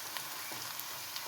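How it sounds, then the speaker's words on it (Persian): Sliced onions sizzle steadily in a pan of hot oil over a low flame, with a soft continuous crackle and no talking. "پیاز درشتی که خلالی خرد کرده بودیم رو به تابه‌ای که داخلش کمی روغن از قبل ریختیم و داغ شده اضافه میکنیم"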